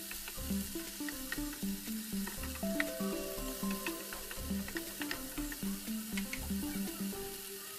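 Seasoned food sizzling in a pan as it is stirred, soft frying crackle with rhythmic scraping strokes of a utensil, quiet and close.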